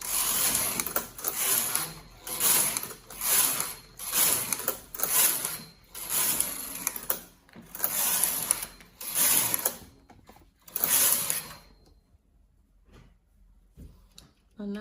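A Brother knitting machine knits plain rows, its carriage swept across again and again with whirring, clacking passes in a steady rhythm, close and loud, before falling quiet at the end.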